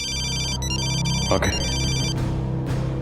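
A telephone rings in a crime-drama scene, its electronic ring tones repeating over a steady background bed of music, with a brief spoken word partway through.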